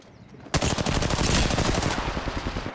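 Rapid automatic gunfire in a first-person shooter, a loud, dense burst of quick shots lasting a couple of seconds before tapering off.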